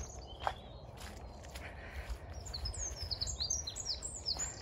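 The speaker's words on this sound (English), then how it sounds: "Robins singing wonderfully." Several robins sing in short, bright, high phrases outdoors in a garden in early March, growing busier toward the end, with faint footsteps and low rumbling background noise.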